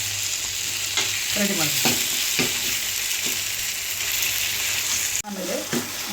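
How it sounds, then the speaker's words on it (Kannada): Tomatoes and onions fry in a pan for hotel-style dal Kolhapuri, a dense, bright sizzle with repeated scrapes of a spoon stirring, close and loud, with a brief spoken line. "ಇದಕ್ಕೆ ಒಂದು 3 ರಿಂದ 4 ಟಮಾಟೆ ಮಿಕ್ಸ್ ಮಾಡಬೇಕು, ಫ್ರೈ ಮಾಡಬೇಕು"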